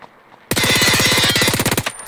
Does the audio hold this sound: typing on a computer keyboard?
no